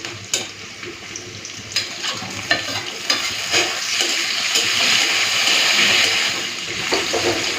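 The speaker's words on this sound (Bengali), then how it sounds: "পেঁয়াজটাকে লাল করে ভেজে নিয়েছি এখন দিয়ে দেবো নুন হলুদ মাখানো চিংড়ি মাছ" Salt-and-turmeric-coated prawns going into a pan of browned onions, loud steady frying and sizzling with repeated stirring and scraping strokes against the pan, no voices.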